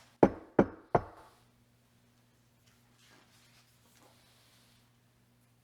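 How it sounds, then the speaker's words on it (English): Three sharp knocks at a door in quick even succession, close and loud, then quiet. "There's a knock at the door."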